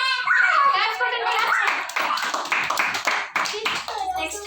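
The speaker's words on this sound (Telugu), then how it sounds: "క్లాప్స్ కొట్టండి." Children clap their hands in a classroom, bursts of close, uneven claps mixed with kids' talking and an adult voice.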